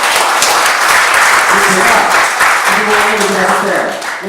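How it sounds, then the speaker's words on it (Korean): A lecture hall audience claps for a speaker after a talk, loud dense applause running throughout, with someone speaking over it partway through. "우리 정명 선생님 참 고생 많이 하셔서 박수 한번"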